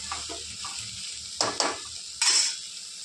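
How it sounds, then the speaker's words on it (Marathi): Soybean rice being sautéed in a pan, with a soft steady sizzle broken by a few louder scraping stirs near the end, close and without talk. "एक 2 मिनिटं परतून घेणार आहोत मी."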